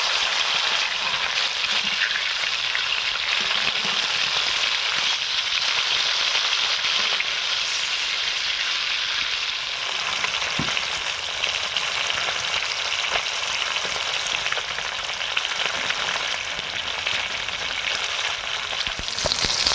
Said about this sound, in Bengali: মাছের এক পিঠ ভাজা হয়ে গেছে, উল্টে দেবো, উল্টে আর এক পিঠ ভালো করে ভেজে নেব।